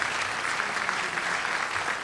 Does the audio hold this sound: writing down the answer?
no